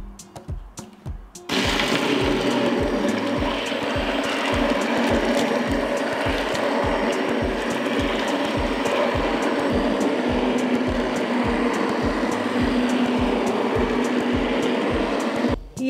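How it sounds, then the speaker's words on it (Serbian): An immersion blender purees cooked plums for jam, running as a steady loud whirring buzz with a rapid ticking pulse after a short, quieter start. "I sada ću šljive usitniti sa štapnim mikserom."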